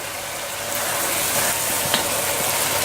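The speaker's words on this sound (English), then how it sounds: "now in go the mushrooms, and we're going to cook those down a bit so they're not raw" Mushrooms frying in a pan for a mini chicken pie, a steady close sizzle that rises slightly as they cook, with a faint clink partway through.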